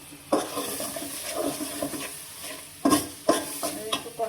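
Spice paste with turmeric and salt frying in a pan as it is stirred, a steady sizzle broken by several sharp scraping clanks of the spoon against the pan.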